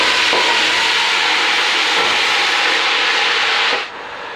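Fresh spinach hits a very hot saucepan coated with oil after garlic, producing a loud, steady, close sizzle that holds for several seconds before dropping off sharply.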